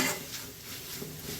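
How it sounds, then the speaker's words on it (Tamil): Ground spice paste for Andhra egg curry being sautéed in a pan, with a soft steady sizzle and the scrape and clink of a utensil stirring against the metal, close and alone without talk. "இப்போ பச்சை வாசனை போகிற வரைக்கும் இதை வந்து நல்லா வதக்கி விட்டுக்கலாம்."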